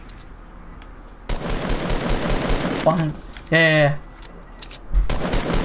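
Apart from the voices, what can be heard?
minigun firing in Fortnite video game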